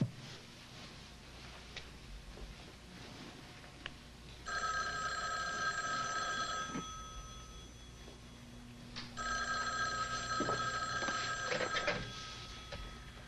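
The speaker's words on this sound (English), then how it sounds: "Rita, 2 phone calls in one day." An old-style telephone bell rings in two long bursts separated by a pause, clear and fairly close over a quiet room hum, with no talking.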